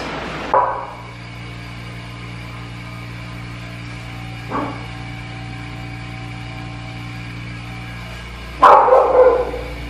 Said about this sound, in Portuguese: Por que a Angu tá latindo, será?